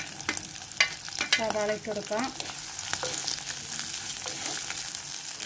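Onion, green chili and curry leaves sauté in oil in a pan, giving a steady close sizzle with stirring scrapes throughout, and a voice briefly speaks over it.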